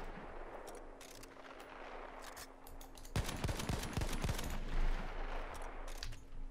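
Autoloading 8.35 rifle in Battlefield 1 fires a rapid string of loud close shots in the middle, with scattered distant gunfire and battle noise around it.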